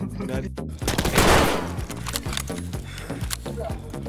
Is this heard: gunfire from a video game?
yes